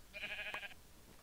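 A sheep in the Minecraft video game lets out one short, nasal bleat, bright and close, in an otherwise quiet moment.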